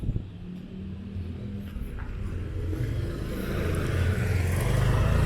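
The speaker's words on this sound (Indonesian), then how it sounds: "itu di depan sana sedang terjadi pertemuan antara dua mobil ya, berpapasan." Two cars meeting and squeezing past each other on a narrow rural road beside an old irrigation channel, a steady rumbling engine drone that grows louder and closer toward the end.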